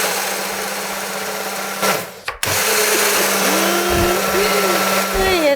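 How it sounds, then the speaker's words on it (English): A kitchen blender whirs steadily at high speed, briefly cutting out and restarting midway, then running on with a loud, constant motor drone. "you put it into your blender"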